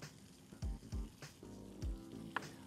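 Bell peppers of several colours, with red onion, sizzling in a hot frying pan, a soft steady frying hiss broken by a few short louder bursts as pieces hit the oil, heard close with no talk.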